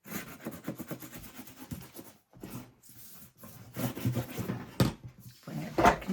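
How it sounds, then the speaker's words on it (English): Bone folder or hand rubbing paper firmly while burnishing a book signature into an album, giving soft repeated scraping strokes in an uneven rhythm, close and moderately loud, with brief pauses between passes. "Burnish everything."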